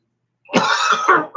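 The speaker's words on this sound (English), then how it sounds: "I decide when I want to cough, and I want to cough." A single close, loud cough with a throaty, rasping quality, sharp onset after silence and a second short burst at the end.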